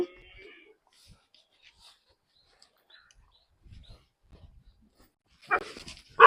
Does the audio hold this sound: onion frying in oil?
no